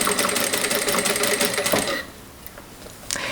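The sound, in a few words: sewing machine sewing a straight stitch seam on linen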